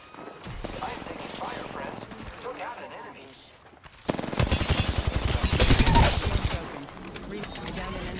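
Gunfire from the Apex Legends video game bursts in after a quieter stretch of talk, with dense automatic shots filling the second half over excited speech.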